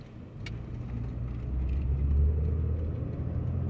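A car rolls through a working-class residential neighborhood in Anderson, Indiana, its engine and tire noise a steady low rumble heard from inside that swells slightly midway, with no talking.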